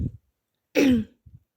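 A single short cough or throat clear, close and abrupt, with small throaty sounds before and after it.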